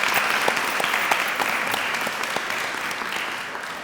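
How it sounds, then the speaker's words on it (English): A crowd at an awards ceremony claps steadily and enthusiastically, a dense, sustained round of applause that fades slightly toward the end. "Let's give a big round of applause to that."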